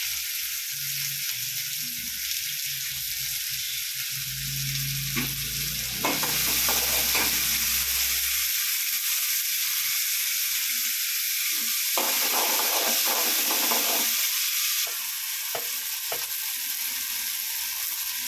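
Beans and nookal kootu cooking in a pan, with steady sizzling and frying under repeated scraping stirs of a spoon against metal, close and fairly loud, with heavier stirring bursts midway and no talking.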